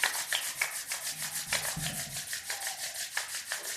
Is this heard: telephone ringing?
no